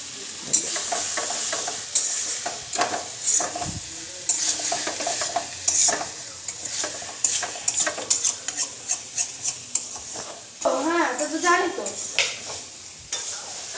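Soybean curry being stirred and fried in a pan in a home kitchen, with a spoon scraping and clinking in quick repeated strokes over a steady sizzle, close and fairly loud.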